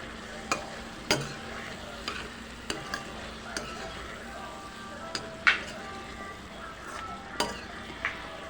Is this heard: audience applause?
no